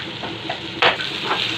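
Chicken frying in a pan sizzles steadily while a utensil stirs through it in a few quick scraping strokes, close and moderately loud.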